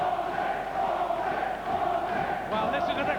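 A boxing arena crowd in Liverpool roars in a sustained, dense wall of cheering and chanting that swells slightly near the end, heard at a distance beneath a commentator's voice.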